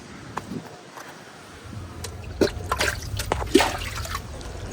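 Water splashes and dribbles as it is poured into a drinking glass and drunk in an indoor room, soft and close, with faint movement and no talk.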